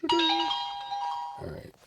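A car dash camera gives an electronic chime: a bright, sustained two-tone ding that rings for about a second and a half before cutting off, with muffled background noise following.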